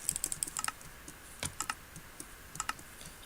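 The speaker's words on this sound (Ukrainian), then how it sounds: "І звіняюсь за клікання мишки такі громкі" Loud mouse clicks in quick clusters during a SkyWars game on a computer, sharp dry taps in bursts of two to five with short pauses, close and alone with no talk.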